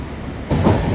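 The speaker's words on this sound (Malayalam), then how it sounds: "ട്രെയിന് കോട്ടയം റെയിൽവേ സ്റ്റേഷനിലെത്തി" A passenger train pulls into Kottayam railway station with a loud, close rumble that surges sharply partway through a brief moment.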